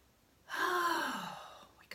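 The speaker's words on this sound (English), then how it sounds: "take a nice deep breath" A single deep breath drawn in and let out slowly during a calm guided tapping session, close and clear, swelling quickly and then fading over about a second and a half, with no talking.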